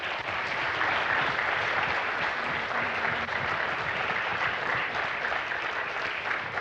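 Steady, dense clapping from a large audience at an HR convention, a continuous even wash of applause that holds at a constant level for several seconds with no voices on top.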